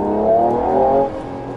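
Mercedes-AMG E53 4Matic+ from 2019, its engine giving one short rising rev that swells and then eases off after about a second, close and loud with no talk.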